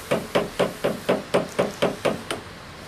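A hammer strikes a bracelet being reworked from rubber to gold, giving nine evenly spaced, sharp metallic taps in a steady mechanical rhythm, close and clear with no talking.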